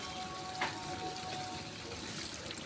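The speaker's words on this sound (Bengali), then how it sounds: "একটু পানি দেবো বন্ধুরা সিদ্ধ হওয়ার জন্য।" A little water is poured into a cooking pot of beef with taro stems, potato and pointed gourd. It makes a soft, steady splashing trickle that stays fairly quiet and continuous with no voices.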